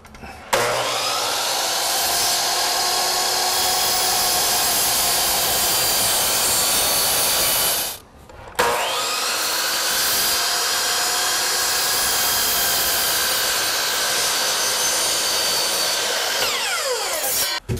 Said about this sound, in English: Now I can make a 45-degree miter cut.